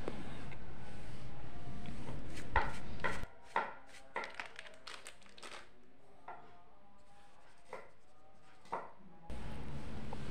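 Dull pounding strikes from a pestle in a stone mortar grinding spices with salt, irregular and close, some quick and clustered, over a faint background hum.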